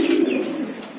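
Pigeons coo at close range in a steady, throaty low murmur that swells and fades over about a second, alone with no talking.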